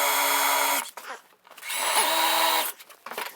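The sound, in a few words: power drill drilling through a door for letterbox bolts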